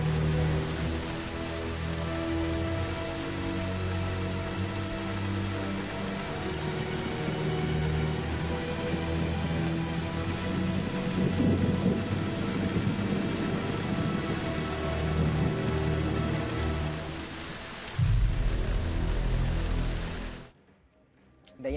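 Rainstorm, heard as a steady dense wash of rain noise with low rumbling underneath that swells near the end before cutting off abruptly, and no voices.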